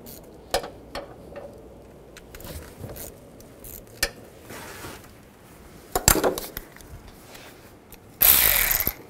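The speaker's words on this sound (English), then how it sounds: "This bolt right here, you want to take that out. Use a 13 millimeter socket." A ratchet with a 13 mm socket loosens a bolt on a 2010-2017 Chevrolet Equinox during water pump replacement, giving scattered quick clicking bursts and metallic clinks, fairly close, ending with a louder clattering rush.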